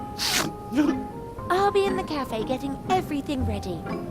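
A dwarf with a cold sneezes once, sharp and close, in The Night of the Rabbit game, followed by a character talking.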